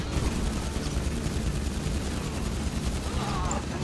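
Rapid gunfire fills a video game heist shootout, a dense continuous crackle of automatic shots at moderate distance, steady and fairly quiet, with voices talking over it.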